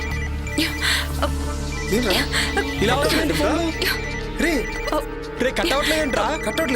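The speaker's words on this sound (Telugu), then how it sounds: "రే నాకు కూడా శివగారి నుండి కాల్ వస్తుందిరా" A phone rings with an incoming call in a Telugu horror film scene, with a repeated electronic ringtone pattern sounding loud and close throughout, overlapping tense speech.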